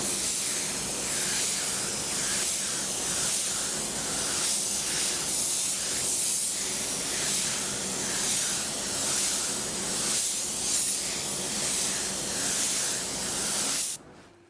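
A spray gun lays down wet-on-wet paint coats on a car, a steady loud hiss of atomized air running unbroken for about fourteen seconds before cutting off abruptly.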